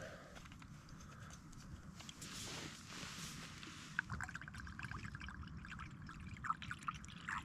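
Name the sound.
pouring fluid to top up a pot while camping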